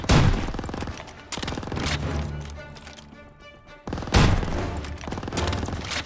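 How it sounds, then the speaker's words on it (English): Gunfire in Call of Duty WW2 during a wartime street fight: loud, close bursts of rapid rifle and machine-gun shots. Heavy blasts open and close the stretch, and a quieter spell of softer firing sits in the middle. "This guy is shooting."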